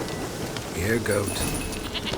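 A goat in the Witcher 3 video game gives one wavering bleat, mid-loud, over a steady game ambience, with a voice around it.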